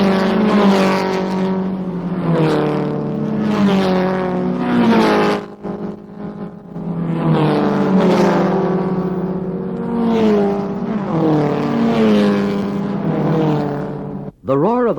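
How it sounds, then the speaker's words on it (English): Racing cars roar past one after another, each engine note sweeping downward in pitch with a strong Doppler shift as it passes close by, loud and continuous with brief gaps between cars. "The roar of the first car you heard changed pitch almost a musical fifth as it passed close by."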